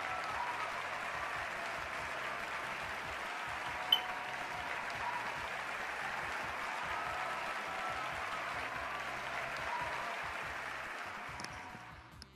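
Steady crowd applause from a large studio audience in a puzzle video game show, continuous and even for about twelve seconds, with a brief sharp click near the start and a fade at the end.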